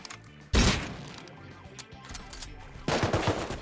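Automated turrets in Rust open fire during a raid on a PvE server, with two loud bursts of rapid gunfire separated by quieter scattered shots and thuds.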